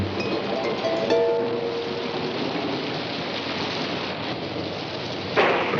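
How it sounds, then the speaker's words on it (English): Heavy rain pours down steadily as a dense, unbroken hiss, with a low rumble underneath that may be thunder. "But the rains came"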